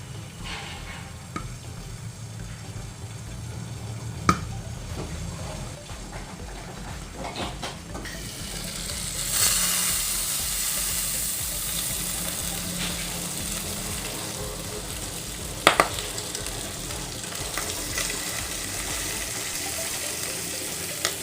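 Pork belly for lechon cooks in a Salad Master pan, giving a steady low sizzle with a few sharp pops from the skin fat, fairly faint and continuous, with a rushing watery hiss rising partway through.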